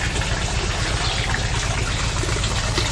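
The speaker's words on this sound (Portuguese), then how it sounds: "Água natural correndo." Natural clean water runs steadily through a large hose beside a rural house, a continuous loud rushing wash close by with a low rumbling undertone and no letup.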